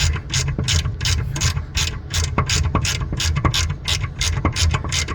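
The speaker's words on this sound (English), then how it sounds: "Let's see if I can do this with a speed wrench." A speed wrench loosens nuts on the lower pulley assembly of a Brunswick Frameworx bowling pinsetter, giving rapid, loud, repeated ratcheting clicks in quick bursts with brief pauses and no talking.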